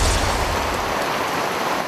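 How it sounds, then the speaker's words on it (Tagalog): Heavy rain pours down steadily in Mamburao, Occidental Mindoro, a dense, constant wash of broadband hiss that stays loud and even throughout with no voices. "Ginising ng malakas na buhos ng ulan kaninang umaga ang mga residente ng Mamburao sa Occidental Mindoro."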